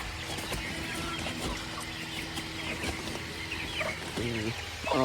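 Pure white farm turkeys call repeatedly in bursts over a steady background of clucking fowl, with a louder, closer call rising near the end.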